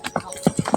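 Working horse hooves clop in a quick, uneven run of four or five close, hollow knocks within under a second, fairly loud and near.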